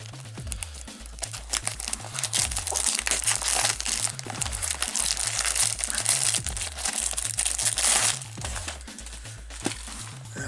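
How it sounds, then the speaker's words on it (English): A foil wrapper on an early-1990s Tekworld collectible trading card pack is torn open, giving a steady close crinkling and crackling over a repetitive low musical beat, with no talking. "let's start opening cards"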